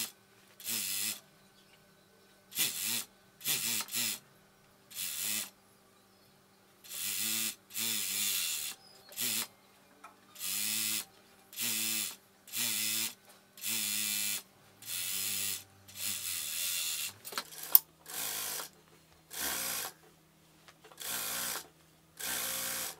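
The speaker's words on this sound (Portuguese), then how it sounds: "agora eu vou lá pra máquina overlock passar uma costura pra unir a lateral" An overlock sewing machine stitches the side seam of a bat-sleeve dress in about a dozen short whirring bursts separated by silent pauses. The sound is close and clear, with no talking.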